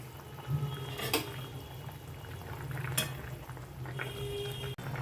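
Hilsa fish and fried eggplant curry simmering in a pan, with a steady low bubbling hiss and a few faint clinks and pours over about five seconds.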